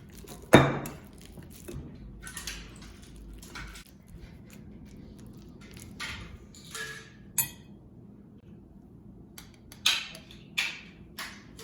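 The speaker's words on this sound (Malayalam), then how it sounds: "ഞാൻ ഈ 3 പഴം നന്നായിട്ട് മാഷ് ചെയ്ത് എടുക്കാൻ വേണ്ടിയിട്ടാണ് പോകുന്നത്" Three ripe bananas mashed for banana bread, with soft squelches and occasional sharp clinks of the utensil against the bowl coming in sparse, irregular bursts close by; no one speaks.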